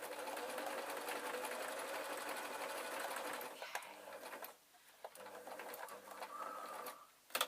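A sewing machine runs steadily and close by as it stitches a soft toy bat, humming continuously for several seconds. It pauses briefly, then resumes.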